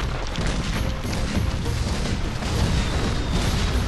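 Booming cannon fire from pirate ships at sea in the Skylanders: Spyro's Adventure video game, dense rumbling blasts that fill the clip at a loud, steady level.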